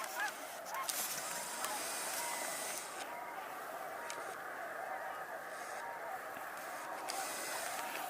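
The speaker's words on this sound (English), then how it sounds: "Those sound like, yeah, snow geese." Snow geese honk continuously over a steady outdoor background, a busy flock calling repeatedly at moderate distance through the whole stretch.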